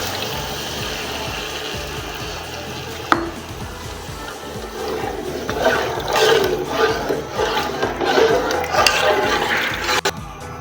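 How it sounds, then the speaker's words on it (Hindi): Water rushes and splashes steadily into a pot of soaked rice, about 3 litres poured in a continuous stream that swells in volume partway through, with a knock near the start. "ये भी हम पानी इसके अंदर ऐड कर रहे हैं"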